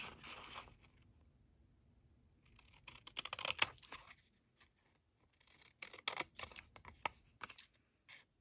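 Scissors snip around a glued paper scrap for a junk journal in two close bursts of quick crisp cuts, with quiet pauses between them.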